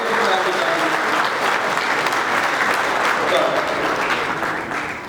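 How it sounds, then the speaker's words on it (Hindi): Loud, sustained applause from an audience at the UP International Trade Show 2023, a dense even roar of clapping that holds steady for several seconds before easing slightly at the end. "एक जोरदार ताली के साथ"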